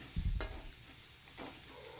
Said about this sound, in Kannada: ಇದು ಇವಾಗ ಸುಮ್ಮನೆ ಲೈಟಾಗಿ ಫ್ರೈ ಮಾಡಿದ್ದೀನಿ ಅಷ್ಟೇ.